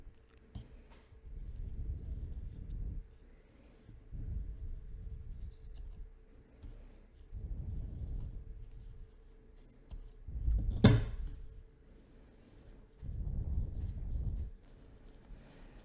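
Scissors snipping off the loose yarn ends of a small crocheted butterfly, close to the body of the piece: several short, soft cutting bursts spaced a couple of seconds apart, close and quiet, with one sharper snip near the end.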